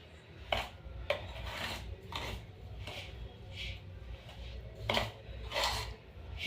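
Spoon scraping and clinking in a bowl as rava dosa batter is stirred together with curd, with intermittent utensil knocks and soft mixing rubs at close range.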